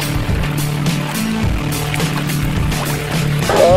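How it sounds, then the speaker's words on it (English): Kayak paddling on a river in Montenegro: rhythmic paddle strokes splash and gurgle through the water close by, with a steady low rumble of moving water underneath. "Just made a paddle down underneath the Great Tower Bridge."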